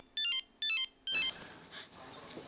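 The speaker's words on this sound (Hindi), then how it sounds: "जेठिया को फोन उठा लो।" A telephone ringtone plays three short bright melodic bursts, close and clear, before the ringing gives way to noisier background sound.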